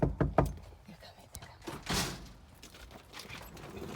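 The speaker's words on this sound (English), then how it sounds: "Banging on my door." Rapid loud knocks on a front door at a house on Thanksgiving, three close bangs followed by scattered thumps and rustling, with voices in the background.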